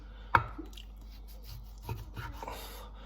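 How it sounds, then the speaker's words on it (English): A knife cuts through seared tataki beef on a board: one sharp knock of the blade hitting the wood, then softer slicing and scraping strokes, close and quiet, with no talking. "it's going to be cutting straight across this because we want nice big raw pieces"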